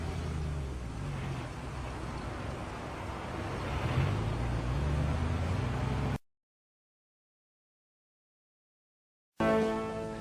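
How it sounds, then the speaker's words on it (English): An off-road vehicle grinds slowly through soft sand, with a steady low engine rumble and broadband rushing noise. The sound cuts to silence partway through and then resumes briefly. "driving in sand, at all costs, try to prevent the vehicle from coming to a standstill"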